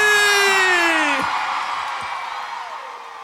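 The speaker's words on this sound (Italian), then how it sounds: "Voglio sentire l'urlo di Napoli!" A loud concert crowd at the Palapartenope arena in Naples roars and cheers, with a rising whoop and shouts blending into a sustained wall of voices that slowly fades.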